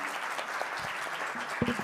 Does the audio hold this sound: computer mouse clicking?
no